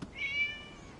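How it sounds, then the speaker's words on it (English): A cat in the video game Genshin Impact gives a single short meow, clear and fairly quiet, with a faint tail and no talking. "It was just a cat."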